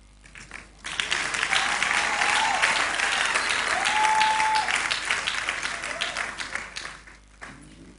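A church congregation bursts into loud, sustained clapping that swells after a quiet start and tapers off near the end. Brief faint voices rise within the crowd noise.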